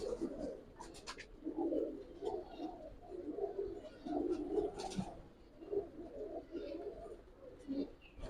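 Pakistani high flyer pigeons coo in soft, repeated throaty bursts, fairly faint and close, with light rustling between calls.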